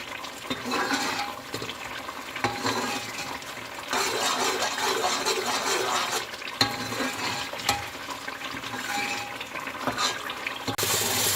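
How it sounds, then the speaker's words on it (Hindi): Sizzling and bubbling of a masala frying in a pan as water is added a little at a time, steady and close throughout, with a brief louder hiss near the end. "वक्फे से इसमें थोड़ा थोड़ा पानी ऐड करती रहूँगी"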